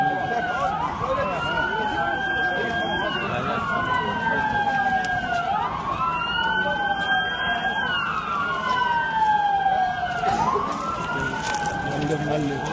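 A loud ambulance siren wails nearby after an explosion in Ankara, Turkey, rising and falling in repeated sweeps over steady background noise.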